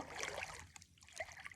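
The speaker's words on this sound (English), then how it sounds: "I'm walking in the water" Footsteps wade through shallow lake water by the shore, soft sloshing and trickling splashes that come in a couple of faint, close bursts.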